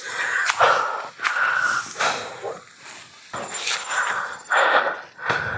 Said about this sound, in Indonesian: Aduh, saya masih ngos-ngosan ya Allah.